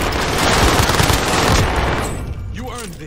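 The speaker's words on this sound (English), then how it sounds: "that airstrike's on me" Dense burst of video game gunfire and airstrike explosions, a loud rapid fusillade for about two seconds that fades into a whistling tail.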